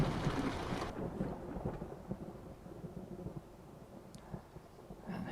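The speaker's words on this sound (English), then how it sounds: "The distant rumble of thunder though" Distant thunder rumbling at night in Euro Truck Simulator 2, a low rolling roll that fades over several seconds with faint rain-like hiss.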